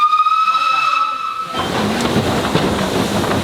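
A steam locomotive on the Isle of Man railway sounds a loud, sustained whistle up close, then breaks into a broad, rushing hiss of released steam that carries on to the end.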